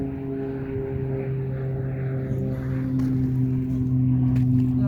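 A propeller airplane flies low near an airport beside the sea, giving a steady droning hum with strong tonal engine lines that holds evenly throughout and grows slightly louder toward the end.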